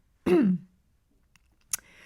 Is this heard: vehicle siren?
no